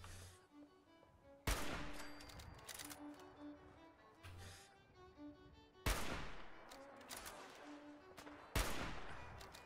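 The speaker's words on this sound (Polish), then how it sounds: "Ktoś strzela tym." Gunfire in the video game Fallout 4: three loud, sharp shots spaced a few seconds apart, each with a ringing decay, over quiet game ambience and faint tonal music.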